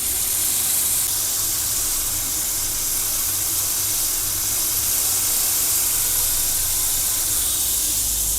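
Paneer tikka roasts on a tawa over a low gas flame with a steady, even hiss. The sizzle is continuous and fairly loud and close, and no one speaks.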